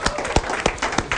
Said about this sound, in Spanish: Primer acto, fuerte aplauso para nosotros.